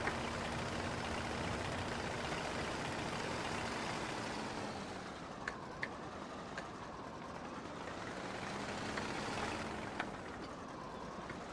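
A tractor unfolds its cultivator in the video game Farming Simulator 22, with a steady engine drone running throughout, a few faint mechanical clicks and a slight dip and swell in level midway.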